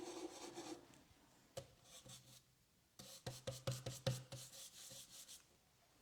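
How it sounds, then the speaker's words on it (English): A stencil brush scrubs in small swirling strokes over chalk-style painted wood on an upcycled stool, giving soft, faint rasping scratches in irregular bursts close by. "Nice little swirling motion. You can hear it scratching there."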